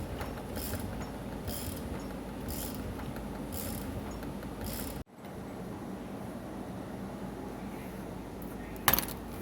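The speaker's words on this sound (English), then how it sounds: "So we're going to use this little clamp puller here and get it behind here and try to pull that off of there." A small clamp puller works a part off the spindle of a Toro ZMaster zero-turn mower, making close metallic clicks, ratcheting and scraping, with a sharp clunk midway and another near the end.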